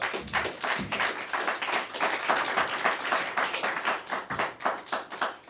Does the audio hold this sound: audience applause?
yes